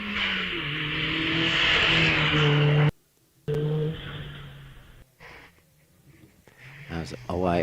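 An Audi TT race car on a hillclimb at Wiscombe Park, its engine heard as a loud, sustained rising roar that cuts off abruptly and then returns, followed by quieter engine noise, with commentary over it.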